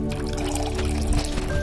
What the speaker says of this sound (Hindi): आप देख सकते हो हम पानी से साफ कर रहे हैं इसको